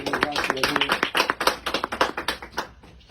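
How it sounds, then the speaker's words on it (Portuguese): A church congregation clapping together in a rhythmic run of quick claps that starts with some voices over it, then settles into a steadier beat that fades toward the end. "Bate palmas para Jesus, igreja."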